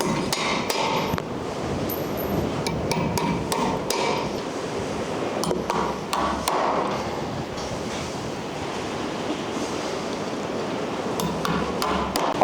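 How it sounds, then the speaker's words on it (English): Nails are struck into a metal joist hanger with a hammer, overhead from a crouched position, giving a series of sharp metallic strikes at an irregular pace over a steady outdoor wind-like rush. "for the first test here, I will be using the hammer"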